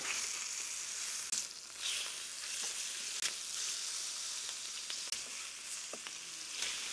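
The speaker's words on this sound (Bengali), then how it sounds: "আমি মাছের এক একটা সাইড 3 থেকে 4 মিনিট পর্যন্ত ভেজে নেব।" Oil sizzling and crackling steadily around frying fish, with a few sharp pops and spatters, close and continuous, no voices.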